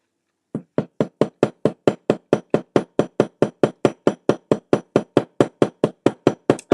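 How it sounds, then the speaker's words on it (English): A metal hammer taps an eyelet rivet on jewelry supplies in a rapid, even series of about twenty-five sharp strikes, close and loud, with no talking. "I'm going to munch on some while I'm hammering this rivet down, or this eyelet."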